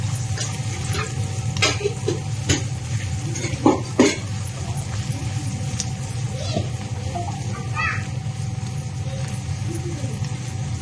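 Two onions, half of them thinly sliced, fry in a pan until brown and are stirred now and then, giving a steady close sizzle with scraping spoon strokes and a brief cough partway through.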